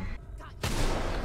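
Gunfire in a first-person shooter video game, a dense burst of shots that starts abruptly midway and carries on loud and close to the end.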